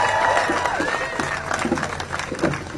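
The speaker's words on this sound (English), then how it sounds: "Let's hear another round of applause for Ray, Avinash, and Victor." Crowd applause and cheering for speakers at a rally for international students at Harvard, a dense outdoor wash of clapping and scattered shouts, with voices mixed in.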